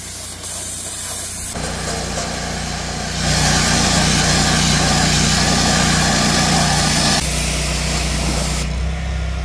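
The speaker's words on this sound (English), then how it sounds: "So what Trevor's doing now is he's just rinsing it all down." A vehicle being rinsed down with an engine-driven pressure washer: a steady hissing water spray over a droning small motor, growing louder midway, then dropping back as the spray stops near the end.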